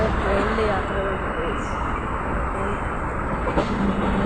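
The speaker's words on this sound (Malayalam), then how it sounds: "അപ്പോൾ നമ്മൾ ട്രെയിനിൽ യാത്ര" A train travels along, heard from onboard as a continuous loud rumble and rattle, with people talking over it.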